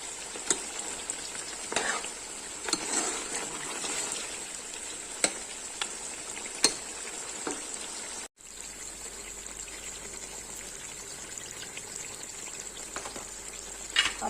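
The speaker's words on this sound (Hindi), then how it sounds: "इधर गोश्त जो है वो भून रहा है, अच्छे से हमें इसको भूनना है" Goat meat and chopped onions frying in oil, a continuous hiss of sizzling with scattered stirring scrapes and clicks, close and even, briefly cutting out midway before resuming, no talking.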